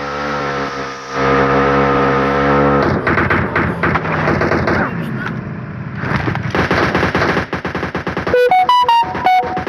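Rapid bursts of gunfire from a shooter video game, loud and dense with rattling automatic fire and sharp effects that break into clipped bursts near the end, with players talking over it.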